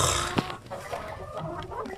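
A purebred Basilan hen clucking close by, soft irregular clucks over a low background with a faint sharp knock near the start.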